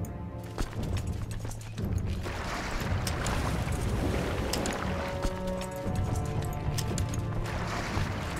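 Ships sailing at sea in the Crusader Kings 2 strategy game, a continuous wash of ocean waves and wind with creaking timbers, steady and fairly loud throughout, with no talk.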